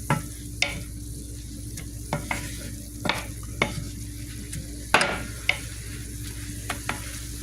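Greens cooking down in a pan are stirred with a utensil that repeatedly scrapes and clacks against the pan. The knocks come at irregular intervals over a steady low sizzle, close up, with no voices.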